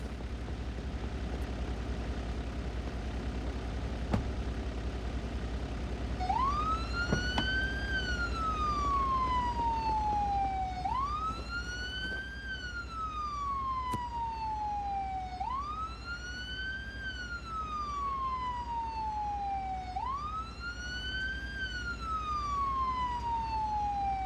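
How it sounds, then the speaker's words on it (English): A siren starts after a stretch of background noise and wails in slow, repeated rising-and-falling sweeps, four loud cycles from nearby, during a CPR training exercise. "let me go around and turn on the sirens."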